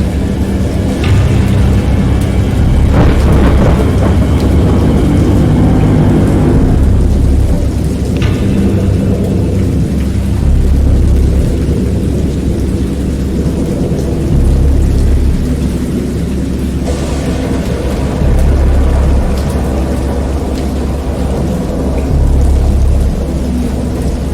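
Thunderstorm in the horror game Dagon, with heavy rain hissing steadily and deep rolling thunder rumbling through the whole stretch, swelling in several low surges.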